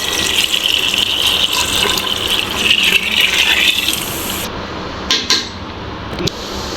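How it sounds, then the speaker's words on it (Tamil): Water pours steadily into a pot of rice for vegetable biryani for about four seconds, a continuous gushing splash, then stops, followed by a few small clinks. "ஸோ இப்போ நாலு டம்ளர் தண்ணி ஊற்றிக்கலாம்"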